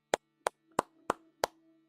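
Five sharp, separate hand claps ring out at a slow, even pace with short room echo, fairly quiet and with no other sound around them.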